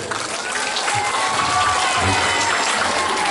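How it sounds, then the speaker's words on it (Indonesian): Parents and guests applaud at a school handover ceremony for new students at MTsN 1 Ternate, a continuous wash of clapping and crowd noise, with voices murmuring underneath. "Tepuk tangan luar biasa kan"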